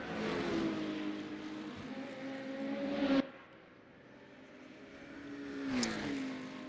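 BMW and McLaren race car engines in the Le Mans Ultimate racing game at the 24 Hours of Le Mans, revving and droning, cutting off sharply and then building back to a whine.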